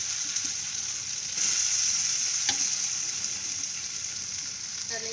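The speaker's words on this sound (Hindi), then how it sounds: "तो ये जो हमारे गट्टे के स्लाइसेस हमने बनाए थे वो इसमें डाल देंगे।" Sliced gatte are dropped into hot oil with browned cumin over a lowered flame, giving a loud, even close-up sizzle that swells slightly and holds steady, with a couple of faint utensil taps.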